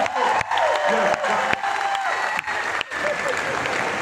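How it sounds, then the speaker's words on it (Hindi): An award function crowd in Ahmedabad claps loudly and continuously, with scattered cheers and whoops mixed in and voices speaking over the applause. "Give a big hand, give a big hand, जोरदार ताली।"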